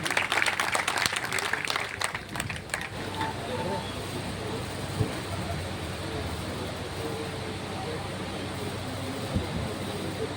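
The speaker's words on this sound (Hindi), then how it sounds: "एक बार जोरदार तालियां रेनू के लिए।" Audience clapping at a live Hindi education program, a burst of applause at the start that thins into a diffuse crowd hum with scattered claps.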